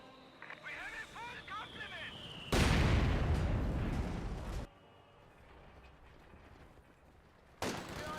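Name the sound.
mortar fire in Company of Heroes 2 video game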